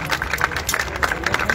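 An audience applauds a school music band at an evening serenade in Buenos Aires, with dense, close, irregular clapping heard for a brief moment and no voices.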